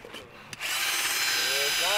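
A power drill with a blunt bit whines up and grinds steadily into an aluminum license plate, loud and close after a brief rustle.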